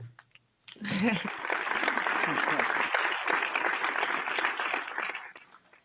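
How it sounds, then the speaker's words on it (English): Clapping for John, a teammate praised for his rushing, breaks out on a barbershop talk radio show: a burst of dense, steady applause lasting several seconds, with voices calling out through it before it fades. "applaud John"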